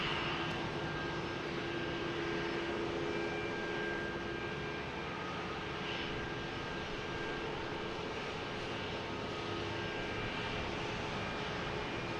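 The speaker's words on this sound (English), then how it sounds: "We have United Airlines heading to Houston, 737 MAX 9, flight 2060." A United Airlines Boeing 737 MAX 9 jet at Boston Logan Airport gives a steady, distant engine roar that holds at an even level for the whole stretch, with no voices.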